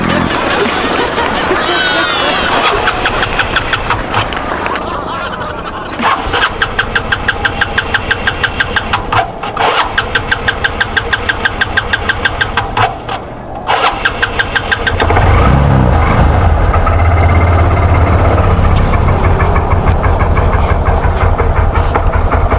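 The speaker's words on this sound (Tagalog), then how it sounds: "Medyo malamig yung ating makina kaya mahirap andarin." A cold engine cranks repeatedly with a fast rhythmic chugging, struggling for several seconds before catching and settling into a loud, steady rumble.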